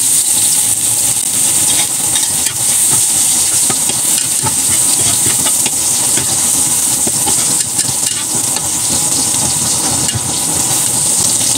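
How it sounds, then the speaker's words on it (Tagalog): Garlic sautéing in annatto oil for pork kare-kare, a loud continuous close-up sizzle with hiss and occasional stirring, unbroken for the whole stretch. "Gisa na po tayo ng bawang."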